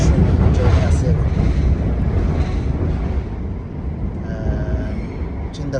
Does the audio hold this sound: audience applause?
no